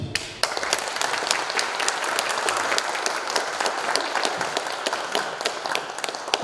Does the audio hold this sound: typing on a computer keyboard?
no